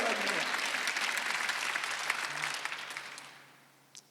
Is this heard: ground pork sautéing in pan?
no